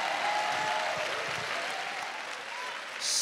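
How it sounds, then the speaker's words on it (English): A church congregation at a Sunday morning worship service claps in a short, moderately quiet round of applause that fades slightly before a brief swell. "Would you applaud whoever's next to you for still standing?"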